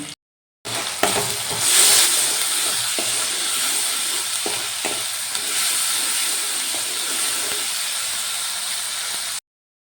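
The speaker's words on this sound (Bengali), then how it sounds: "এবার দিয়ে দিচ্ছি এক চামচ আদা বাটা দিয়ে দিলাম এক চামচ হলুদ গুঁড়ো এবার মশলাগুলো ভালো করে কষিয়ে নেব" Ginger paste and turmeric powder sauté in a pan with a loud, continuous hissing sizzle, strongest just after they go in, while a utensil scrapes and stirs now and then before the sound cuts off.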